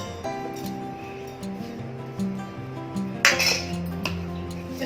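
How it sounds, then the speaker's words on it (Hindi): Whole spices (cloves, black pepper, cinnamon, green and black cardamom) tip into a mixer jar in a home kitchen, giving sparse ringing clinks and small rattles, with a brighter clatter of pieces landing near the end. "तो इन सारी चीज़ों को हम इस मिक्सर जार में डालेंगे।"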